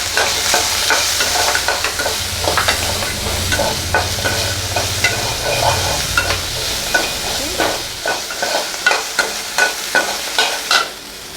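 Onions with salt fry in a pan for onion chutney, giving a loud, steady sizzle with frequent clinking stirs that grow sharper and more rhythmic toward the end. No one speaks.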